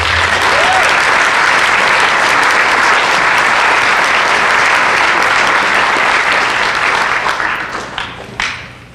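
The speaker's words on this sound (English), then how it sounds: "give one more round of applause to our students." Loud, dense applause from a large audience at a school choir concert fills the space continuously, then thins out and fades with a few last claps at the end.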